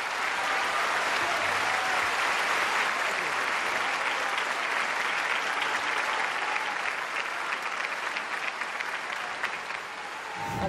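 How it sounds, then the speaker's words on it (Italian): A large audience at the Sanremo music festival applauds steadily during a trophy presentation, a dense, continuous wash of clapping that holds at full strength before tapering slightly at the end. "Applauditelo tutti!"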